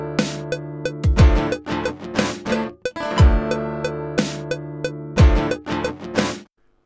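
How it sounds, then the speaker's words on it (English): Sampled kick drum and snare drum play a sparse studio beat: deep kick thumps land under bright snare cracks in a steady, repeating pattern over a sustained tonal layer, loud and close before the sound cuts to silence. "now the snare drum comes in. Sounds like this."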